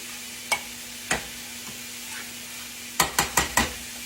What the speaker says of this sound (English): I'm going to stir this up now.